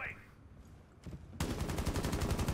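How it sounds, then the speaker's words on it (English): Rapid bursts of light machine gun fire in Rainbow Six hit a wall, loud and continuous after a short quieter stretch, the shots coming in a fast steady rhythm. "I just randomly shooting the wall."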